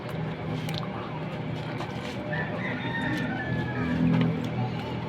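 Bantam chickens clucking in a cage, with several birds calling amid steady background noise and a faint crow, moderately near.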